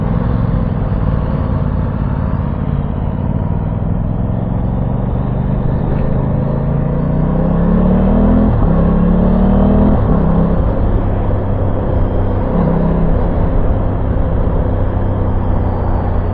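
An Aprilia Tuono 660 motorcycle rides through town in commute mode, its engine droning loudly and steadily from close by, with gentle shifts in pitch as the revs rise and ease and a constant low rumble of road and wind.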